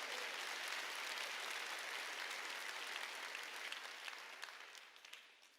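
A church congregation claps during a Korean sermon, a dense, sustained round of applause that fills the hall, then thins and fades away toward the end.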